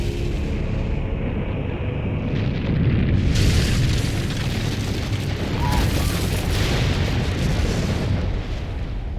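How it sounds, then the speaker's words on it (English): A giant explosion from the Almighty Push attack in the video game Naruto Ultimate Storm 2, a loud sustained booming roar that swells and rumbles continuously for several seconds with a dense low-end blast. "A giant explosion that wiped out so many people."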